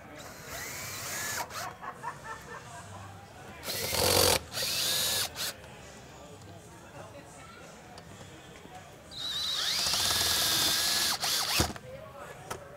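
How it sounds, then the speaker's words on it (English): A power drill drives screws into the head of a vertical rod panic bar, giving several short whirring bursts separated by pauses, with clicks and handling noises and a person speaking in between. "Now you want to go ahead and put the rest of the screws into the head."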